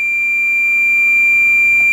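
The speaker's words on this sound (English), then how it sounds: "I think it's beeping because it's more than the 600 volts." A handheld clamp meter gives a steady, unbroken electronic beep while it reads over 600 volts on a 1 kV DC test, a clean tone held alone for the full two seconds.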